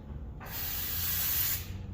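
Aerosol lubricant is blasted onto car parts in one continuous hissing burst lasting just over a second. The spray is close and fairly loud, with no talking.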